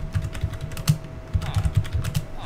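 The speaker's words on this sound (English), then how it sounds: "I'll be madly typing things in" Fast, continuous typing on a computer keyboard during a Minecraft session, with dense close-up clacking keys at an uneven rhythm and a few heavier strokes.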